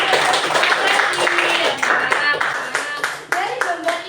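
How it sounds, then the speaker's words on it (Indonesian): A classroom of students claps for a classmate, a steady patter of hands over about four seconds, with children's voices chattering and calling out on top throughout. "Tepuk tangan buat Nauzi"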